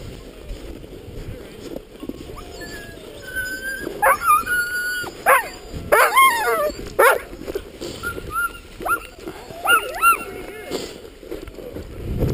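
A dog up front at a checkpoint barks, yips and whimpers in a run of short, close, high-pitched cries over a low background rumble, with people talking nearby.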